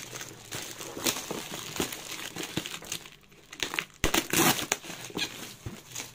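Cardboard box being opened, with dense crinkling and crumpling of packaging in bursts up close, including a louder rustle near the end, and no talking.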